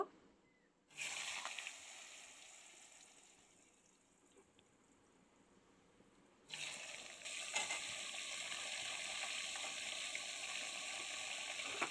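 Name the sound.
potatoes and Malabar spinach stems sautéing in oil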